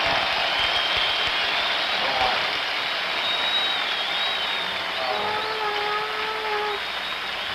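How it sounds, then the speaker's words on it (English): A packed baseball stadium crowd at Game 6 of the 1975 World Series between the Reds and the Red Sox, a steady, loud roar of cheering with occasional whistles rising above it. "let's listen to the crowd"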